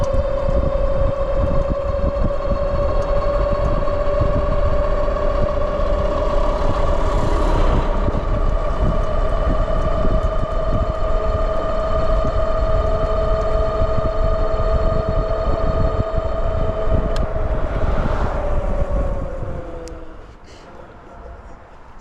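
A Tesway X5 Pro 60Ah long-range electric bike motor held at full throttle gives a steady, loud whine that holds for about twenty seconds, falls slightly in pitch near the end, then cuts off.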